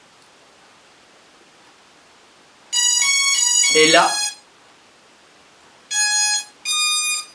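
A Hubsan Zino drone powering on plays a short harmonic electronic startup melody of bright tones, followed a few seconds later by two more short chime bursts, with a brief spoken phrase overlapping the first tones.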